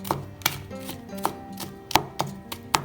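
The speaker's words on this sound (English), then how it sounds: "This is the chopped garlic and ginger, and I'm just going to mince it together." Knife mincing chopped garlic and ginger with salt on a cutting board: about eight crisp, close taps at an uneven quick rhythm, with no voices.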